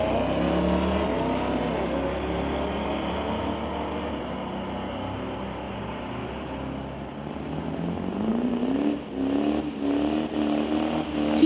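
A 2019 Audi TT RS launches down a street drag strip, its engine roaring loud and steady as it pulls through the run, with the pitch climbing near the end. No one speaks.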